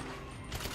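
Rapid submachine gun fire in Grand Theft Auto V, a dense continuous burst of shots that swells louder toward the end, close and harsh.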